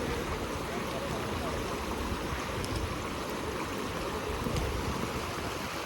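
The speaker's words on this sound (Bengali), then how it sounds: "তো আমি জল দিয়ে হেঁটে হেঁটে যাচ্ছি" Footsteps slosh through the shallow water of the Gulma river, a steady rushing, splashing wash of flowing water up close, with some talk in the background.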